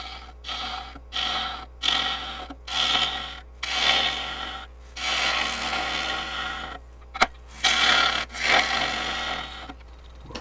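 Lathe gouge cutting into a highly figured English walnut bowl spinning near 1,000 RPM, a series of rhythmic rasping, scraping passes, each a second or so, separated by short pauses, close and fairly loud with no talking.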